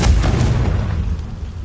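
A Confringo fire spell from Hogwarts Legacy bursts with a heavy, booming explosion, loud and close, its low rumble decaying over about a second and a half.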